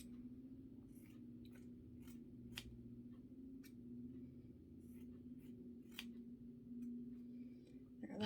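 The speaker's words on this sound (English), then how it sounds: "So I'm just going to cut this a little smaller." Scissors snip through craft material for a snowman wreath in a series of faint, crisp, irregular cuts over a low hum in a quiet room.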